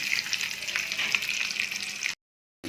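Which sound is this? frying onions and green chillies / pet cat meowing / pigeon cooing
frying onions and green chillies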